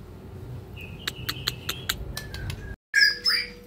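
A white-rumped shama (murai batu) of the hot-tempered type calls at close range, a run of sharp repeated chirps and whistles, then after a brief silence a louder burst of bright, varied squawking notes.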